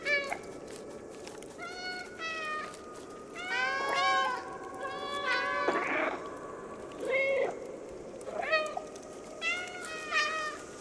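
A cat in the video game Stray meows repeatedly in short, clear, rising-and-falling calls spaced across the stretch, close and prominent over a soft ambient game background.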